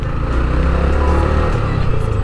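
A sports motorcycle engine runs loud and close in city traffic, with a steady low rumble and slight revving that keeps going without a break.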